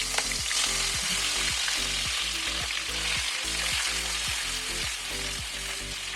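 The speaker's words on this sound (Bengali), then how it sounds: "এবার এই বেরেস্তার তেলেতেই আমি চিংড়ি মাছগুলো সব একটা একটা করে দিয়ে ভেজে নেব" Prawns frying in hot oil left from fried onions, a continuous loud sizzle with bubbling crackle, close and steady with no talking.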